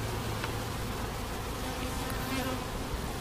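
Honeybees buzzing on a hive frame bearing queen cells, a dense, steady close-up drone with individual bees zipping past, no voices.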